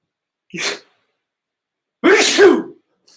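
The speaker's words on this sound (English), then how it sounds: "I didn't want to sneeze on camera." Two sneezes, a short one followed after a pause by a louder, fuller sneeze, close to the microphone with silence around them.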